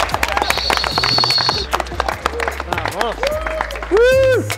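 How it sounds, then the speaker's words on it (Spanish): A small group claps backstage at a business event, sharp uneven claps mixed with shouts and talking, cheering voices rising toward the end. "Dense un aplauso y a ponerse chingones."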